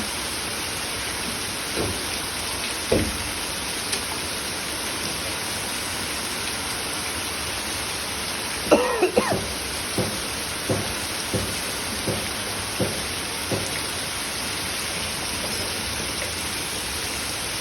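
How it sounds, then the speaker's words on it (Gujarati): Heavy rain pours down in Radhanpur, Gujarat, in a steady, dense hiss over flooded streets, with scattered drips and thumps landing nearby throughout. "વરસાદ રોકાવાનું નામ લેતો નહીં"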